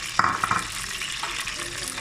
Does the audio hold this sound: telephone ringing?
no